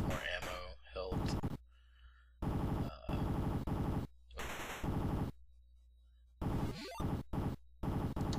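Gunfire from The Punisher NES game: short chiptune bursts of rapid shooting that start and stop in choppy blocks, separated by brief quiet gaps.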